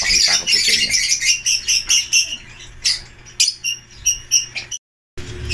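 Pet birds in a flight cage squawk and chirp in rapid, repeated shrill bursts, loud and close, with a brief silence near the end.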